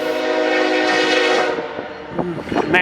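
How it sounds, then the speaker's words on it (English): A BNSF manifest freight train passes close by, its horn blaring loudly over the rumble of rolling cars before the horn breaks off into shorter blasts. "here comes a BNSF"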